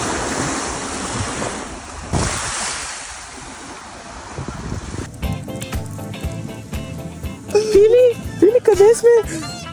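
Ocean waves wash onto a hot summer beach with wind gusting across the microphone, then people start talking over the surf.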